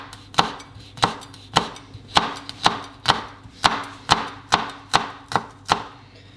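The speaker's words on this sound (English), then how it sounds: "I'm just going to cut them into small rings like this." A knife cutting deseeded peppers into small rings on a board: about fifteen crisp, evenly spaced chops in a steady rhythm, close and clear with no talk.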